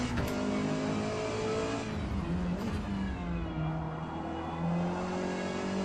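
Race car engine accelerating in Forza Motorsport, a steady roaring whine with gear changes breaking the pitch, loud and continuous throughout with no talk.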